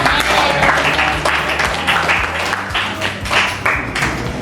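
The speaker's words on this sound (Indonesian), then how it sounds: "tepuk tangan dong buat ini." Applause from a classroom group of students, a burst of brisk, overlapping clapping at moderate loudness that carries on steadily throughout.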